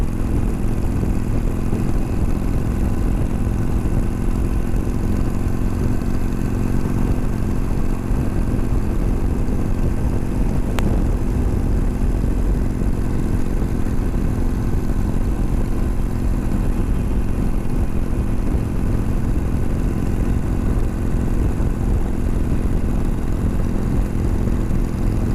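Steady, loud motorcycle engine drone while riding on the road, a continuous low rumble with wind noise running unbroken throughout, no voices.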